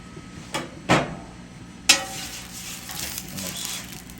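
Oil sizzling in a pan as a Fritos-filled crunchwrap fries, a steady soft hiss punctuated by a few sharp clanks and knocks of the pan near the start and middle.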